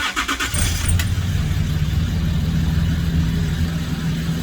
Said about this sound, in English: Let's put the ignition on.